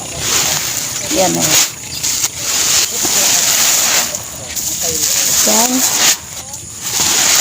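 Unhusked palay rice pours onto a drying screen at a rural farm, making a continuous loud grainy rush and hiss while someone talks over it.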